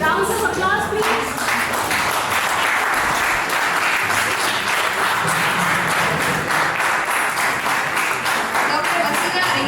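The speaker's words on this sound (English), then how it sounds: "rounds of applause, please." Sustained audience applause at a medical education conference, a dense, steady wash of many hands clapping for nearly ten seconds, with a brief voice at the start before the clapping fills the room.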